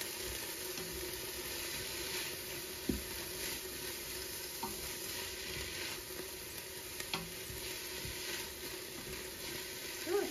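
Onions sizzle and fry in an Instant Pot, a steady close hiss of cooking with occasional soft stirring scrapes and small pops, with no talking.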